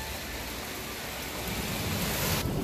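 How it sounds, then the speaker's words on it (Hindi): Rain falls steadily on a rainy day, a dense continuous hiss that stays even and close and grows slightly heavier toward the end. "आज इतना अच्छा वेदर है और फिर बारिश हो रही है।"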